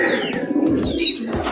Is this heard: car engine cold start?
no